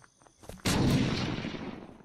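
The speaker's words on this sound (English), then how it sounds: "I heard an explosion." A single sudden explosion in the Ace of Spades block-building shooter, a sharp heavy boom that decays into a long rumbling tail after a few faint clicks, with no speech over it.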